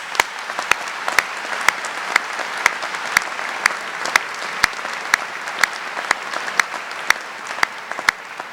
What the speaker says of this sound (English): Let's give those outstanding alumni a warm round of applause.